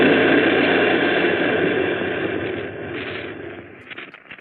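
An artillery gun fires in a War of the Worlds radio drama, a loud, broad roaring blast that slowly fades away with a few faint crackles at the end.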